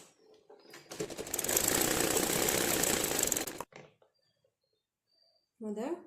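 A sewing machine runs a stitching burst for almost three seconds, a loud steady mechanical whir that stops abruptly, followed by near silence and then a voice.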